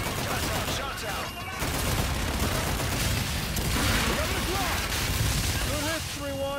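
Dense gunfire and heavy impacts roll continuously in the video game Call of Duty: Infinite Warfare, with radio-style voices talking over the barrage.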